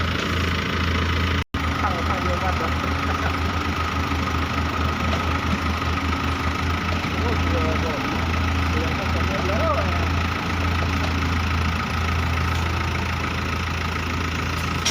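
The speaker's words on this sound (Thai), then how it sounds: "เครื่องสามพันเทโบครับ" A 4x4 dump truck's 3000 turbo engine idles nearby with a steady low rumble and faint periodic knock, running continuously with a brief dropout near the start.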